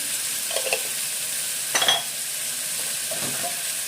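Spinach rice sautéed in a pan with salt and turmeric, a soft continuous sizzle with a few quiet stirring scrapes of a utensil and a brief clink against the pan.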